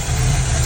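Car engine idling with a makeshift fuel pump setup, on a T-top car with fresh tires, giving a steady, close, low rumbling hum with no voices.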